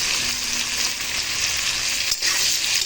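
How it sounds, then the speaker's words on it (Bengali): Papaya and potato fry in hot oil with chopped onion, dried chili and bay leaf, giving a steady, close, loud sizzle throughout with a brief dip near the end, no voices. "সেই তেলেই আমি পেঁপে আলুটা ভেজে নিলাম এবং পেঁয়াজ শুকনো লঙ্কা তেজপাতা ফোড়নটা ওর সঙ্গে দিয়ে দিলাম"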